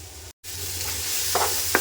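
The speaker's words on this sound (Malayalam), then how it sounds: "നന്നായി വഴറ്റാം" A rose apple pickle mixture sautéing in a pan, with a continuous close sizzle, a brief gap near the start and a couple of short scraping stir clicks toward the end, and no voices.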